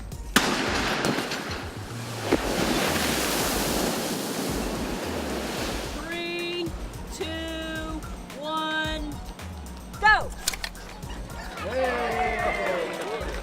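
NASA's next deep space exploration vehicle slams into the water of the Hydro Impact Basin at Langley Research Center during a drop test, giving a loud, rushing splash and surge lasting several seconds, followed by voices and other sounds.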